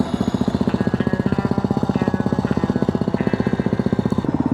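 A Yamaha WR250R dual-sport motorcycle rides along a Pine Barrens trail, its single-cylinder engine pulsing in a loud, rapid, steady rhythm close to the rider, with slight changes in pitch as the throttle shifts.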